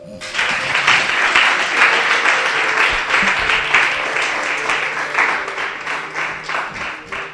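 A church congregation breaks into loud, sustained applause during a French-language worship service. The clapping is dense and continuous from start to finish, and no voices rise clearly above it.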